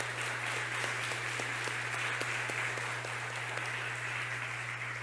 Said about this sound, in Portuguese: Então dá uma salva de palmas agora para Jesus.